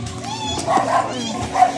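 A dog gives a few short yips and whimpery barks close by, mixed with people talking nearby.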